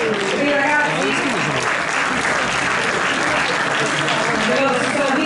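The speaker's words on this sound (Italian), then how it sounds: "un bel applauso per i ragazzi" A crowd at a youth football tournament award ceremony in Sardinia, Italy, applauds the team in a dense, continuous wash of clapping, loud and close, with a voice talking over it on a PA.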